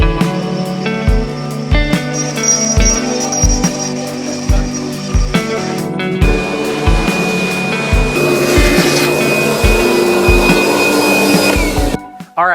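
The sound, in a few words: CNC router cutting out inlay with 3/16 bit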